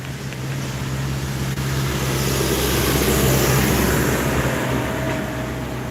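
Road traffic passing outdoors, including a tractor, a continuous loud rumble with a low engine drone that swells in the middle and eases toward the end, with no speech.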